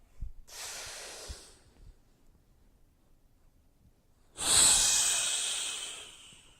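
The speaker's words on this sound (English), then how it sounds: "Breathing in." Two breaths are heard during a towel breathing exercise: a short airy breath, a pause of near silence, then a longer, louder inhale hissing close to the microphone.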